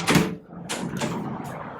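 Several knocks on a hotel room door in Bangkok, a loud first rap followed by a few more, close and resonant against a faint room background.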